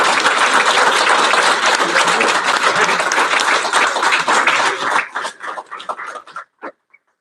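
Loud audience applause at a 2021 technical school graduation ceremony, a dense sustained roar of clapping that thins out into a few scattered claps and fades to silence.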